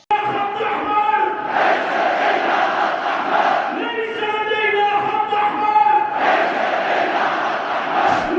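A large crowd gathered outside a Houthi-controlled news channel in Yemen roars and chants in loud, sustained waves, with shouted voices rising and falling throughout and a brief sharp noise near the end.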